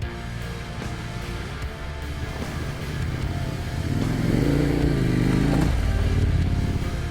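A KTM dirt bike runs on a backcountry trail ride, its engine a steady droning rumble under wind noise that swells louder partway through as the rider accelerates.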